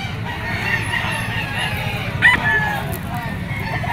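A gamefowl bull stag crows once, briefly and fairly close, amid rural background noise and someone speaking.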